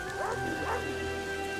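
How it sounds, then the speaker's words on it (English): A dog in The Witcher 2 barks outside in the rain, two quick yipping barks at a modest distance over soft rainfall. "There's a dog outside in this."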